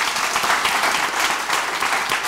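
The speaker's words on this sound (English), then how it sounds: "Hearty applause." Hearty applause from an evening audience at a London talk event held at Selfridges, a dense, continuous wash of clapping throughout.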